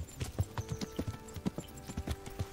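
A horse's hooves clip-clop steadily in the medieval game Kingdom Come: Deliverance, a quick even gait of crisp close hoofbeats, quiet and alone without voices.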